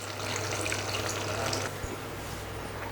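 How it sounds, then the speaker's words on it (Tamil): Water pours steadily into a pan of chicken gravy during cooking, a close, splashing stream that runs for about a second and a half before stopping, leaving quieter kitchen noise. "இதில் தேவையான அளவுக்கு தண்ணி சேர்த்து சிக்கனை நல்லா சாஃப்டாக வர்ற வரைக்கும் வேக வச்சு எடுத்துக்கலாம்"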